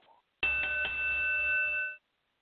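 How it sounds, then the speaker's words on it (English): A single bell is struck once to open a wrestling talk show, ringing loud and sustained with steady harmonic tones for about a second and a half before it cuts off sharply. "I rang the bell."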